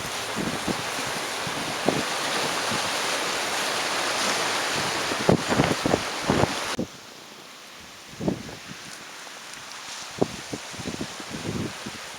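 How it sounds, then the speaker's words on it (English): Strong northerly wind on a rural bush beach along the New Zealand coast, roaring gusts battering the microphone with sharp buffeting thumps, easing partway through to a lower rush, no talk. "there's some extremely strong northerly winds just flying around here"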